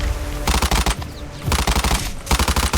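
Automatic gunfire rattles in a video game, loud and close, coming in three rapid bursts separated by short pauses.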